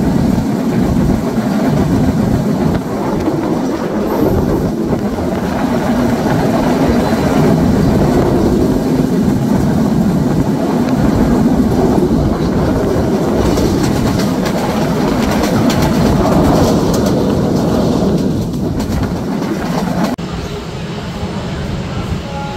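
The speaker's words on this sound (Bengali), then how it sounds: "ট্রেনটি প্রবেশ করলো ইব্রাহিমাবাদ রেলওয়ে স্টেশনে" Dhumketu Express, a Dhaka–Rajshahi passenger train in Bangladesh, heard from onboard as it rolls along the rails: a steady, loud rumble with rhythmic wheel clatter that runs without a break and eases near the end.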